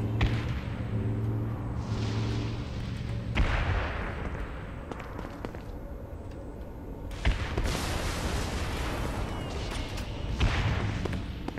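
Repeated explosions and blasts erupt in the Saints Row video game, several loud bursts spaced unevenly over a continuous rumbling din, with brief quieter gaps between them.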